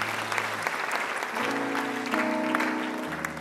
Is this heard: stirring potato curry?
no